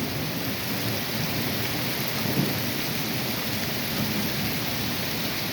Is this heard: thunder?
yes